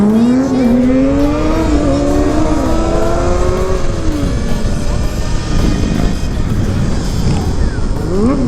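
A 600cc sport bike engine revs loud and close, its pitch climbing and falling through several sweeps with a harsh, buzzing exhaust note and no talking.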